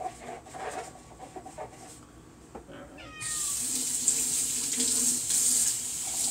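A kitchen tap is turned on to wash a measuring cup, starting with a sudden loud steady rush of running water after a few quiet seconds of kitchen sounds and a brief cat meow.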